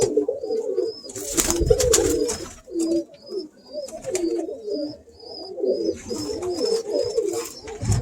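Several Birmingham Roller pigeons coo steadily in soft, low, rolling calls, with rustling and fluttering noise around them and a few higher chirps mixed in.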